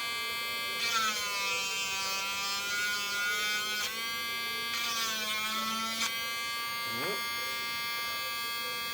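A small hobby Dremel rotary tool cutting and grinding the shaft of a stepper motor, a steady high whine running in two long bursts with a short pause between, loud and close.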